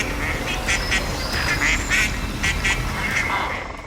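A duckling calls as a heron attacks, giving a run of short, high, repeated peeps and quacks at moderate volume over a steady background hiss.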